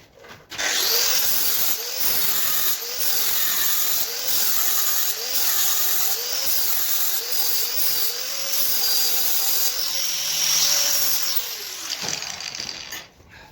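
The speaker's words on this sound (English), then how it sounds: "that's going to allow me to sort of grind off these spot welds" An angle grinder fitted with a 3mm disc grinds off spot welds on a metal hoop, a close, steady hiss and rasp with the motor pitch rising and dipping in repeated waves as the disc bites, stopping near the end.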